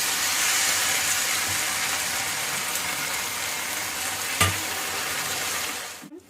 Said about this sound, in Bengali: একটু নেড়ে ছেড়ে আমি এবার জল দিয়ে দেবো।